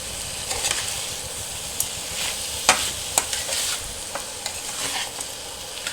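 Coriander powder and spices fry in a pan for goat trotter nihari, a steady crackling sizzle broken by sharp ticks and scrapes of stirring.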